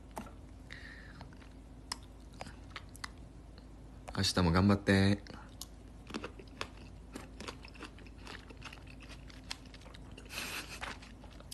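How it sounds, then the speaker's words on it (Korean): Crunchy bites and chewing of raw cucumber, a burst of crisp crunches close to the mic amid quieter clicks, with someone speaking briefly in Japanese. "씹는 소리가 신나 보인다고?"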